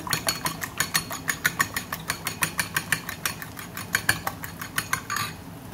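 Four eggs seasoned with salt and black pepper are beaten in a bowl for a tuna omelette, a utensil clinking against the bowl in a quick, steady rhythm of close, sharp taps that stops near the end.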